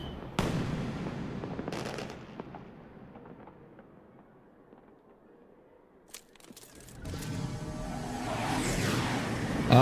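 Fireworks in the video game Final Fantasy XII: The Zodiac Age burst with sharp cracks and booms, fading into crackling before a fresh volley of bangs and a swelling rumble.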